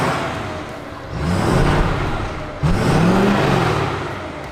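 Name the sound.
Ford F-250 truck engine running with stock exhaust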